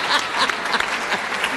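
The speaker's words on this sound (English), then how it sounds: "Let's everybody clap right now." Audience clapping at a Chamber of Commerce awards event, a lively burst of many hands with distinct sharp claps over a steady wash, close and loud.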